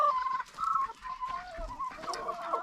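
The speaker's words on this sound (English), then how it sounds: "My ducks, guinea fowls, Mr. Rooster, and the rest of the chickens are over here." Chickens cluck steadily in a countryside farmyard in Zimbabwe, kept with ducks, guinea fowl and a rooster. The overlapping clucks are fairly quiet and moderately near, with no voices.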